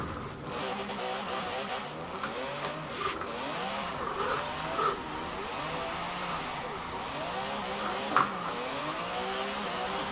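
An Aston Martin DBS Superleggera drift build in Forza Horizon 4 slides on a slick, snowy road, its engine revving up and down in wavering sweeps over tire squeal, with talking over it.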